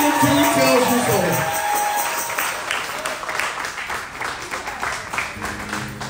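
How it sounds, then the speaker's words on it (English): Worshippers at a Sunday church service clap and cheer as a preacher comes forth, a loud crowd roar with shouts fading into steady rhythmic clapping, while voices mingle through it. "Can we make some noise for the man of God as he comes forth?"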